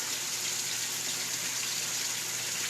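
Water pouring through an open sieve drain on a Cetus sieve, a steady, even broadband rush with no pauses, fairly close and continuous throughout.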